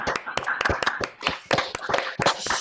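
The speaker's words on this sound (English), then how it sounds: "I want to hear these claps." Online meeting participants clapping, several close, uneven bursts of hand claps over about two and a half seconds, slightly compressed as if heard through a call.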